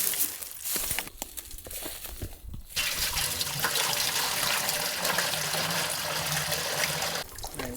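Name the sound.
birch sap sloshing in a bucket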